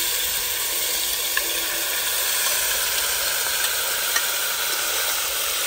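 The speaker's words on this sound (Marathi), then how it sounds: "आपण आता त्याच्यामध्ये पपईच्या फोडी टाकून घेणार आहे" Raw papaya pieces sizzle loudly and steadily in hot oil in a kadhai, a dense, even frying hiss with faint crackles and no voices.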